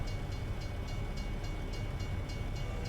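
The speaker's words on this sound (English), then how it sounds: "I think the train's going to cross just to the right side of us, so shouldn't affect us at all." In American Truck Simulator, a train passes a level crossing in Kansas, its wheels clacking in a steady rhythmic beat over a continuous low rumble, moderately loud and close, with no talking.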